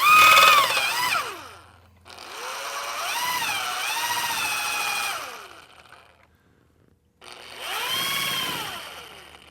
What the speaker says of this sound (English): I have the stainless steel mixture on there, and I'm going to turn on the drill